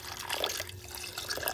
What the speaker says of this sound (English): I'll add some water to that.